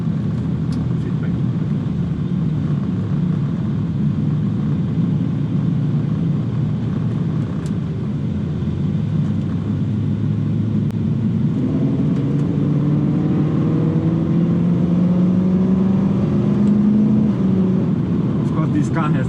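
A BMW 3 Series with a catless downpipe rumbles steadily from inside the cabin, and a rising engine tone builds in the second half as the car accelerates. Someone talks over much of it.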